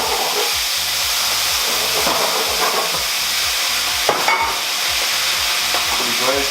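Roasted red peppers in olive oil with a splash of white wine sizzling and cooking off in a pan at a food expo, a steady loud hiss with stirring and scraping throughout.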